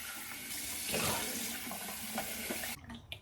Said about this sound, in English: And now I'll rinse off and see what I have.